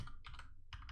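Keys on a computer keyboard clatter in two quick bursts of typing, close and fairly quiet, separated by a brief pause with no talking.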